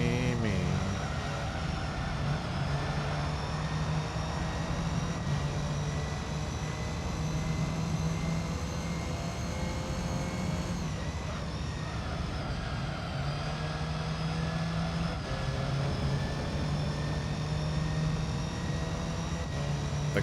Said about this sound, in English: The car sounds fuel my soul.